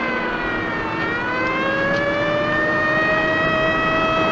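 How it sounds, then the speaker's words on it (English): An ambulance siren in a 1962 drama, a steady sustained wail with slowly rising pitch, loud and close, heard alone without talk. "We're in an ambulance on the way to the hospital."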